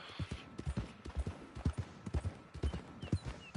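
Horse hooves clip-clop in a steady trotting rhythm on a trail in the Red Dead Online video game, moderately close and fairly quiet, with no other prominent sounds.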